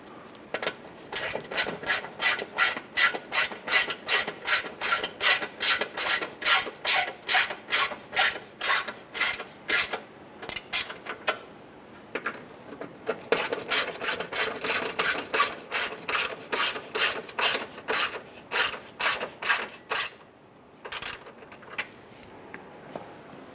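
Ratchet clicking rhythmically as grille bolts are snugged down on a 2005-2010 Chrysler 300, steady repeated strokes close up with a brief pause midway.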